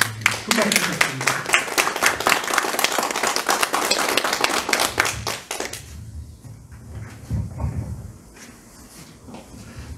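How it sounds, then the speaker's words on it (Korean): An audience applauds to welcome a climate scientist lecturer, with brisk, dense clapping for about six seconds that cuts off abruptly, followed by quiet room noise and faint movement. "큰 박수 부탁드립니다"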